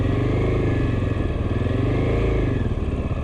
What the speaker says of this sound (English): You only need to pull in the lever so much that the engine will freely rev.